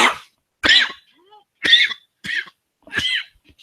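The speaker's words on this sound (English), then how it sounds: "Sometimes I get a cough." Five sharp, close coughs come one at a time with brief silent gaps between them.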